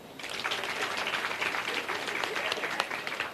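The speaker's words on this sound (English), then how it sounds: "Can we clap for them?" Audience applause fills a graduation ceremony hall, steady dense clapping from a large crowd that holds at an even, loud level throughout with no talk over it.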